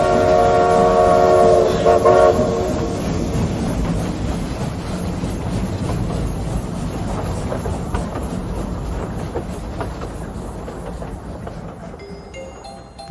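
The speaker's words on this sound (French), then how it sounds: "Le train Trans-Merveilleux Express numéro 251 232 à destination inconnue va entrer en gare." A train rumbles loudly and steadily into a station, a horn-like tone sounding early on before the heavy rolling noise continues.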